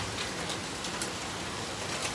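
Hail falling in a video game, a dense, steady hiss of pattering impacts that fills the whole stretch without a break, loud and continuous.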